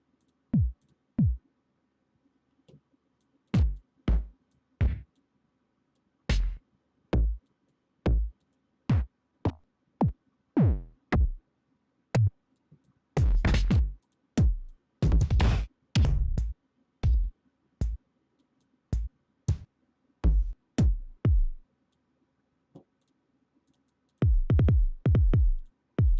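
Sharp, punchy drum hits in irregular groups, some single strikes and some rapid clusters, separated by silences; no other instruments accompany them.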